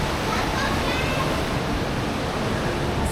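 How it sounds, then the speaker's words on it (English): A water ride at a German theme park sends out a loud, steady rush of splashing, churning water that fills the whole stretch without a break. "Time for another water ride."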